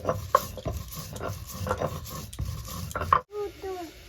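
Fried spices are ground into paste on a stone shil, giving repeated rough scraping and rubbing strokes close by, with a few sharper knocks, then stopping near the end.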